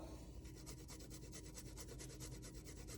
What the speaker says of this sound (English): And if you grate it, you'll see as it starts to go down, we have our fresh ginger ready to go.